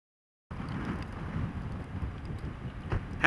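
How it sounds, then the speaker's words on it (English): Blizzard winds gusting over 40 mph during heavy lake-effect snow in Michigan roar steadily as a broad, rumbling rush of air buffeting the microphone, with no talk. "Intense winds, 40 plus mile per hour wind gusts, blizzard conditions."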